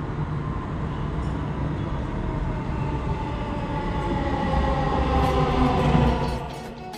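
Dubai Metro train pulling into a station platform, a steady loud rumble of wheels and motors that swells toward the end and then eases off, with no voices over it.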